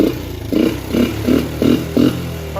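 A Suzuki Quadrunner LT125 ATV engine with a freshly cleaned carburetor is revved with the throttle, rising in five evenly spaced bursts about every half second, loud and close.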